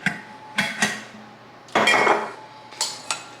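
A metal tablespoon scoops sugar and clinks against a bowl, a few sharp taps and scraping scoops in a kitchen, close and fairly quiet, no talk.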